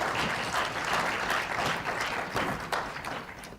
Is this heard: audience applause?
yes